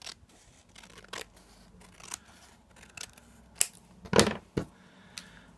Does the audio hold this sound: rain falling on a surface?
no